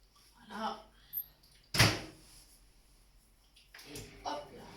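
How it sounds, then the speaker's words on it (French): A microwave oven door clunks shut with one loud, close thump, surrounded by quieter kitchen handling sounds and soft speech before and after. "On s'en va vers le micro-ondes pour juste quelques secondes"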